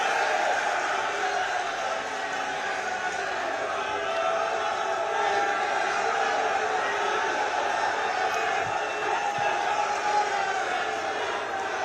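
Large outdoor crowd at a Rashtriya Lok Dal political rally in Baghpat, a steady dense wash of cheering and clapping with voices mixed in, sustained and loud throughout with no pause.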